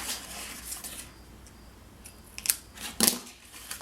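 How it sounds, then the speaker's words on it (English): Scissors trimming excess white paper for a handmade card, a few quiet snips and paper rustles, two sharper cuts near the end, close and soft. "I'm just going to trim off the excess white that's sticking out here."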